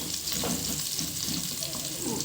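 Amla and green chillies frying in a little oil in a pan, a soft, steady sizzle and gentle bubbling close by, with occasional faint stirring touches.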